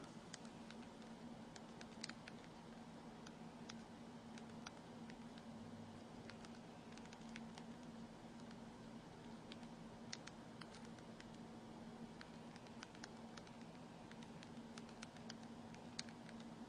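Soft, rapid typing taps on a phone's virtual keypad, irregular light clicks spread across a long stretch over a faint steady hum and background hiss, no voices.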